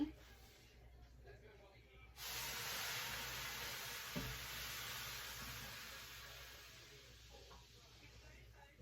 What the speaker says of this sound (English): now I'm going to pour hot water in the tin to create that steam